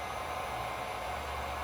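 A heat gun or hair dryer blows a steady broadband hiss of hot air while softening vinyl wrap on the window chrome trim of a 2020 Subaru Legacy or Outback, close and continuous with no pauses.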